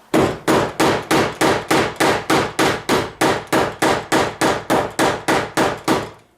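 Hammer blows ring out in a shed, about twenty loud, evenly spaced strikes in a steady rhythm, each a sharp metallic clang that decays before the next, with no talking.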